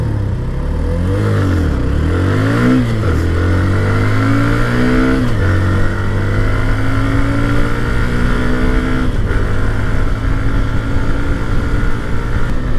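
A Hero Xtreme 125R motorcycle accelerates on a highway, its engine climbing through gears with rising pitch, then holding a loud, steady drone.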